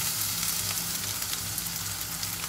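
Onions fry in oil rendered from lap chong, giving a steady, loud, dense sizzle that runs without a break and has no speech over it.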